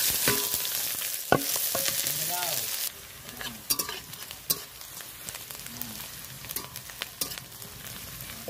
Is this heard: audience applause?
no